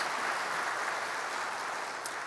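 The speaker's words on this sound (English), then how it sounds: "Yes, there's a round of applause." Applause at a State of the City address in 2017, a steady, even wash of clapping from a large audience that runs throughout, moderately loud and without talk.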